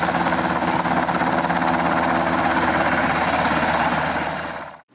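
A helicopter drones steadily with a dense, rapid rotor chop, loud and continuous, then cuts off abruptly at the end.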